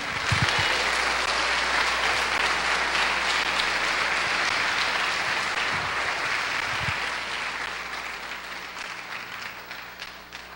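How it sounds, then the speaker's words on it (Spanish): Sustained applause from a church congregation during a Spanish-language sermon, a loud, steady roar of many hands that holds for several seconds before slowly easing off, with a few low thumps near the start. "Un aplauso a Cristo esta mañana."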